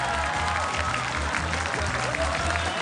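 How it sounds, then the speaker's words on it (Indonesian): An audience applauds three contestants after the first round of an Indonesian quiz competition. The clapping is a brief, steady burst of moderate loudness, with faint voices underneath. "Tepuk tangannya untuk 3 peserta di babak pertama ini"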